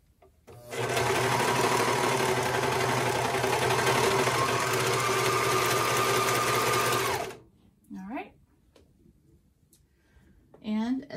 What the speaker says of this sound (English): now I'm going to go ahead and serge this band on